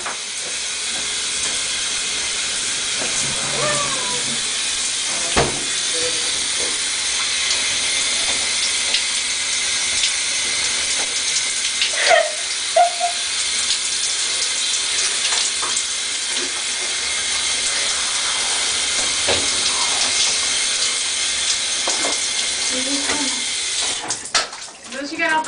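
Shower water runs steadily in a film scene, a continuous close hiss that fills the whole stretch, with speech and brief shouts over it.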